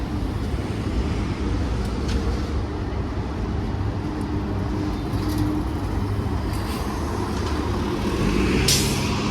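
Metro D5X city bus with air brakes at a Washington DC street near Takoma station, heavy engine and traffic noise with several short sharp hisses of air brake release, the loudest near the end.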